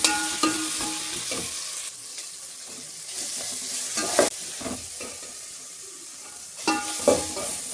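Coriander and mint frying in a pan with a spatula stirring: sizzling crackle under scraping strokes and occasional clanks of metal, close and moderately loud, interrupted by louder knocks.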